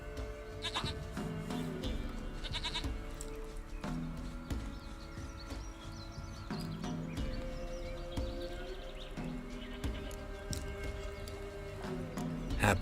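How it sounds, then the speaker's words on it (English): Goat bleats repeatedly in The Witcher 3 video game, several short wavering cries over a busy game soundscape with music and faint hoof clops, loud and close throughout. "Goat of mine, dearest, sweetest goat."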